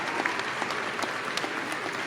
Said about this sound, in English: How about a big round of applause for her family?